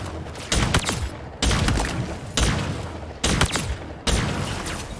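A power weapon fires on a video game shooting range, with five heavy, booming shots spaced about a second apart. Each blast hits close and loud and is followed by a short decaying tail.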